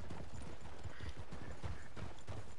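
Several horses galloping on a trail ride in the video game Red Dead Online, with a dense, rapid clatter of hoofbeats that stays loud and close from start to finish.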